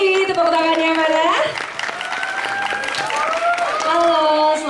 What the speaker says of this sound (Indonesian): Tepuk tangannya Mbak Lele.